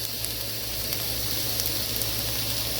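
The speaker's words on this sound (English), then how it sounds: "You can hear it sizzle." Steady, close sizzling of food frying in a pan, a continuous crackling hiss with tiny pops, no voices.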